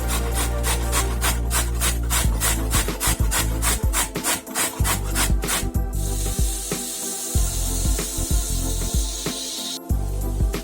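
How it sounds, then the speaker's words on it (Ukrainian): Carrot rubbed on the coarse side of a box grater, a steady rasping scrape in quick regular strokes, close and loud, with a shift to a hissier, brighter scraping partway through. "Тремо морку на великій терці."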